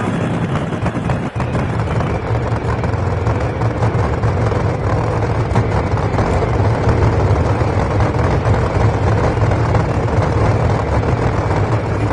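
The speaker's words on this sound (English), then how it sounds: "The roar of the engines firing up" Drag racing car engines in an NHRA video game rumble steadily at idle before a burnout, a loud, dense, continuous low drone with no breaks, heard up close.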